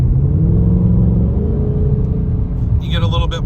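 A deep, steady exhaust rumble from a 2024 Mustang GT with a Stainless Works Legend active exhaust drones close by, holding a low throaty tone with a slight rise partway through.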